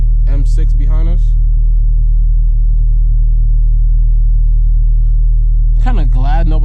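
A steady, loud 600hp turbo Honda Civic Si engine drones at idle inside the cabin, low rumble throughout, with a voice talking briefly at the start and again at the end.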